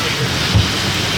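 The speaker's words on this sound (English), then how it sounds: "It's raining hard." Heavy rain pounding a boat at anchor in a lightning storm off Stockton Island, a steady dense hiss with a low rumbling thump near the middle, wind-driven and continuous.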